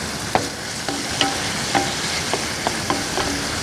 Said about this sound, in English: I like onion. So we'll let some of that caramelize